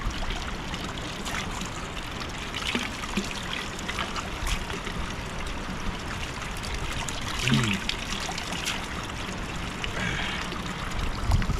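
Mountain water rushes and trickles steadily over rocks beside an ancient Roman bridge, a constant, fairly loud flowing stream with no voices.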